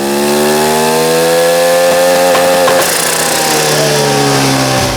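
A 150cc turbocharged go-kart engine screams through a dyno pull, its loud buzzing pitch climbing steadily to a peak before dropping off, close and alone without talk.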